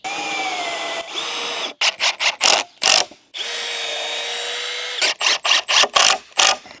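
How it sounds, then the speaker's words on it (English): A power drill whirs in two long sustained runs, each followed by a rapid series of short bursts as the bit bites into a wooden 2x4; close and loud. "we're going to drill that to the wood"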